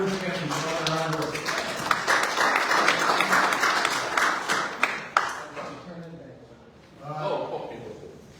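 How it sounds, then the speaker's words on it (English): A round of applause at a village board meeting for Rivers Academy, with clapping that builds, holds for several seconds and then tapers off as people begin talking again. "Round of applause for Rivers Academy for all their hard work."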